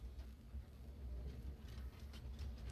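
Trains running along tracks in the Train Valley 2 puzzle game on a Bangkok level, a faint, steady low rumble with soft rhythmic clicks, distant and quiet throughout.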